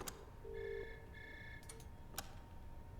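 A telephone rings faintly in the horror video game Monstrum, a short electronic ring pattern with a few sharp clicks in between, heard against a quiet, low ambient hum.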